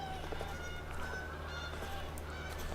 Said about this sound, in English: That sounds like Canadian geese.